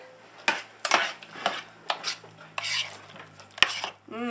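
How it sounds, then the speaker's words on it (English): Appetizer mixture with roasted garlic peppers stirred in a pot, a run of close scraping strokes and clinks of the spoon against the side, uneven in rhythm, no speech. "Now, let me give this another little stir."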